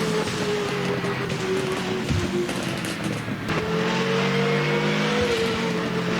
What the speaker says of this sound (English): I like the sound of his car.